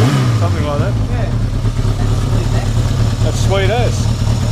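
A Yamaha XS1100 motorcycle engine with tuned carburettors, running steadily at idle with a smooth low throb, heard close up while people talk over it.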